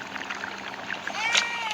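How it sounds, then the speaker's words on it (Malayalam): A baby falls into water with a splash in the video game Baby in Yellow: a brief, bright splash near the end stands above a steady watery wash, with voices and a child's speech mixed in. "കൊച്ചു വെള്ളത്തിൽ വീണ്."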